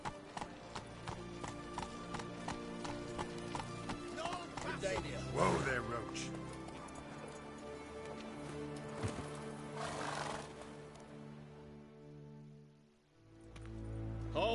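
Roach, a horse in The Witcher, trots with steady rhythmic hoof clip-clops and gives a short whinny. Speech and ambient game sound play over the hooves before they fade near the end.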